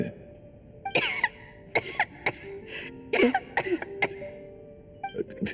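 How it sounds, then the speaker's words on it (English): Coughing from Tonya, a character in Genshin Impact, comes as a run of six or seven harsh, close bursts with short pauses between them, and a throat clear follows. "How long have you had that cough, Tonya?"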